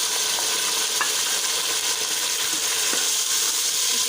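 Onions and boneless beef frying together in a pan for dal gosht, a steady broadband sizzle running throughout with a few faint clinks of a spoon stirring, no talking.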